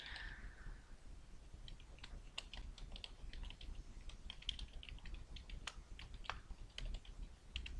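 Someone types an Adobe ID and password on a computer keyboard, irregular quiet key clicks tapping in bursts with short pauses, close and alone.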